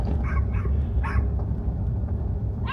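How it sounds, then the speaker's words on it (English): Loud dogs barking in rural Oklahoma, several sharp barks and yips in quick bursts over a rumbling background, fairly close, with no talking. "some loud dogs"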